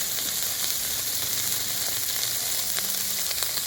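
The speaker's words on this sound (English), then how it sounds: "I love it when it sizzles." Food sizzles and fries in a very hot pan, a steady dense crackle throughout with faint pops, close and continuous with no talking.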